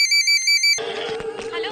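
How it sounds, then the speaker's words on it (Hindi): A ringtone sounds in four short, evenly spaced electronic bursts, then breaks off as a busy scene of voices and background clatter takes over. "तेरी बहन का फोन है।"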